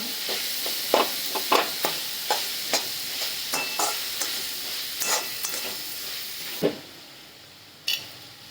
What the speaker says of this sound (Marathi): टोमॅटो पण चांगले नरम होईपर्यंत चांगले परतून घेऊ